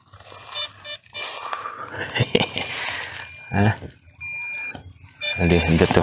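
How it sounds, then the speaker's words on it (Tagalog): Short electronic beeps from a crashed DJI Neo drone's alert sound intermittently between stretches of people talking nearby, the tones clipped and repeated at irregular moments. "Automatic siyang nagbi-beep kapag nag-crash."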